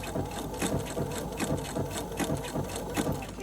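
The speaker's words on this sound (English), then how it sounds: "And I'll stitch a little bit, and then I'm going to pause" Sewing machine stitching a fabric welder's cap, a close, continuous mechanical chatter with a steady rapid pulse and a low motor hum throughout.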